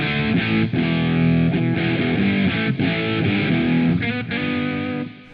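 An electric guitar runs through a SansAmp into a 1974 Marshall Plexi amp, playing loud, distorted crunchy chords in a rhythmic riff with short gaps between strums, alone with no talking.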